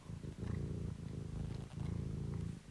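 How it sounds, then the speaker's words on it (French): Cat purring in slow, steady cycles, a low rumbling vibration that swells and eases with each breath, close and soft, with no voices. "nous laisser bercer par les ronronnements"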